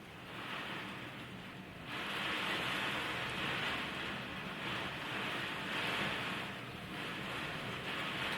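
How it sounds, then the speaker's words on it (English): Rain falls steadily as a dense, even hiss. It is quiet and continuous, with gentle swells in level and no voices. "Can you hear that rain?"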